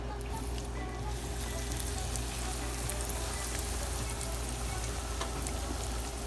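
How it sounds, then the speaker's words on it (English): Steady crackling sizzle of breaded steak frying in hot oil, continuous and close, with no talking over it. "I'm gonna start frying the steak up."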